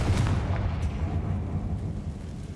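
A Confringo blasting spell explodes in Hogwarts Legacy with a loud, dense, rumbling burst that starts at full strength and slowly fades over a couple of seconds, leaving no other sounds on top.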